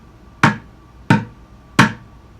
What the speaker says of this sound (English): You're going to hit middle of the drum